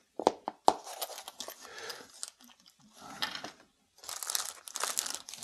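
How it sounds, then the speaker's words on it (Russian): Someone opens a headphone carrying case for DUNU DaVinci earphones and handles the packaging, giving sharp clicks near the start followed by bursts of close crinkling and rustling separated by brief quiet gaps. "Так, открываем чехол."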